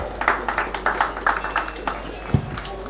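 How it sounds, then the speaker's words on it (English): A few people clap at a human rights organization's anniversary event during an award felicitation, producing slow, evenly spaced, fairly soft claps with faint talk underneath that trail off after about two seconds. "Give a big round of applause for Sheikh Islamuddin sir."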